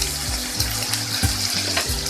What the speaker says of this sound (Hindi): देखें कीमा हमारा अच्छे से भून गया।